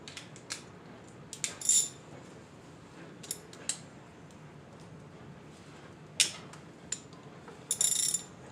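A few scattered metallic clicks and short ratcheting bursts as a ratchet works a bolt loose on a Honda 450 engine during teardown, close but fairly quiet, without speech.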